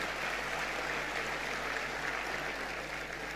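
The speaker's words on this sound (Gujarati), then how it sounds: "એટલે એકવાર ખૂબ જોરદાર તાળીઓ સ્મૃતિભાભી માટે, શ્રેયાંશભાઈ માટે, પરિમલભાઈ માટે, મોરારી બાપુ માટે અને વિક્રમભાઈ માટે હોવી જોઈએ." An audience at the Morari Bapu honour ceremony, Gujarat Samachar Samanvay 2016, claps in a steady, even wash of applause that sounds somewhat distant and holds at the same level throughout.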